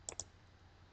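A computer mouse clicked twice in quick succession, two sharp, faint, close clicks over a quiet room hum.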